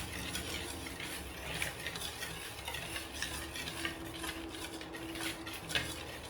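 Paprika being stirred into a buttermilk and flour batter for cauliflower nuggets, a steady close scraping and sloshing of the whisk or spoon that runs without a break.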